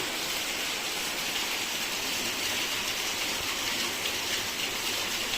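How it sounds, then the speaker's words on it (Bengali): Rain falls as a steady, dense hiss of even loudness from start to end, a wide outdoor wash with no voices. "আর এই যে বৃষ্টি হচ্ছে"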